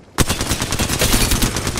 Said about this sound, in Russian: Стреляют по мне.